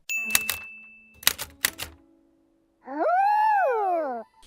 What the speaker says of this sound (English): Snoopy and Woodstock learn how to operate a typewriter